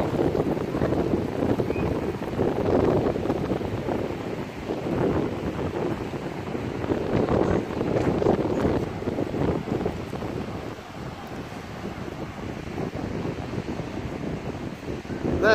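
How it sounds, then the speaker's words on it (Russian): Strong sea waves and gusty wind at a resort beach in Turkey, a steady roar of surf rising and falling in slow swells with wind buffeting the microphone throughout, no talking. "Сильная волна потом."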